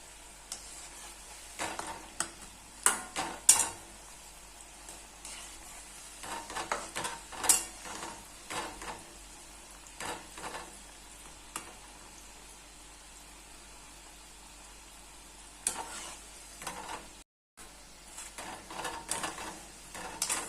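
Shankarpali frying in oil in a pan on a gas stove: a soft continuous sizzle with intermittent clinks and scrapes from turning the pieces, close but fairly quiet, with no speech.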